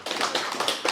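An audience claps at an Indonesian religious study gathering, a dense, steady patter of many hands sounding close and fairly loud for about a second with no voices.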